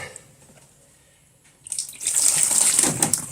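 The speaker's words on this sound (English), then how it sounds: "I'll pour a little water in to clean this off." After a quiet stretch, tap water suddenly gushes out to rinse green-tinged potatoes in a kitchen sink, a loud, steady, splashing rush that continues to the end.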